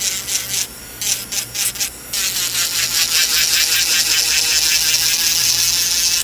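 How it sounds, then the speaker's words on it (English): Electric nail drill fitted with a mandrel and sanding band, filing the sides of a nail during a gel polish change, a steady close whirring rasp with a few short stuttering bursts before it settles into a continuous loud grind. "I'm just getting the sides really good, and I'm using a mandrel and a sanding band"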